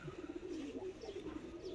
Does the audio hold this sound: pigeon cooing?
yes